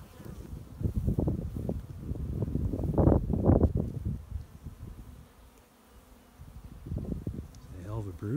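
Honey bees buzz around an open hive during a Varroa mite sample, a low, fluctuating drone that swells and fades with gusty microphone rumble, while people talk nearby.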